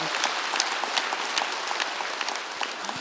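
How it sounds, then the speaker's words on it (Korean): A church congregation claps during a Sunday worship service, a steady crackle of many hands at moderate distance, even and sustained, with no voice over it. "박수로 하세요."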